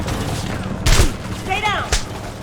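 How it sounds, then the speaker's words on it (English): Heavy gunfire in the Homefront video game: a couple of sharp, loud blasts and bursts amid a noisy battle backdrop, with shouted voices nearby. "Under heavy fire!"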